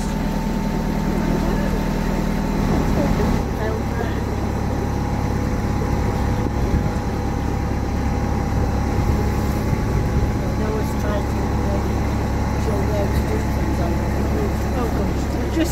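A narrowboat's engine runs at high revs, a steady low throbbing drone, as the boat crosses an aqueduct, with someone talking over it throughout.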